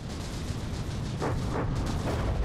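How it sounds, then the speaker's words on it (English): Dense rumbling barrage of frag shells fired from a battleship in From the Depths, with continuous booming and overlapping bursts filling the clip. "The Wildfire is wildly spamming those frags all over the place."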